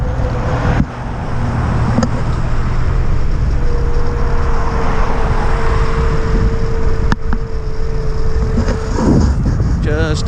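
A small runabout's engine drones steadily and close throughout a leisurely ride past a skate park, with a sustained tone rising partway through and a voice talking over it.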